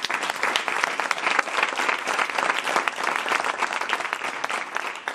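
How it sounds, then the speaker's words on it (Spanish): Sustained, dense applause from Unidas Podemos members for Pablo Iglesias fills the room, a loud, steady crowd clapping with no pauses. "Es el aplauso de los miembros de Unidas Podemos a Pablo Iglesias"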